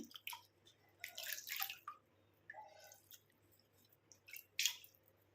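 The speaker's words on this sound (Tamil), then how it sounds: "நான் இப்போ வாஷ் பண்ணியே காட்டுறேன் ஃபேஸை" Water drips and splashes as a face is washed with the hands, giving soft wet squishes and rubbing in uneven bursts over a low steady hum. The sounds are close and fairly quiet.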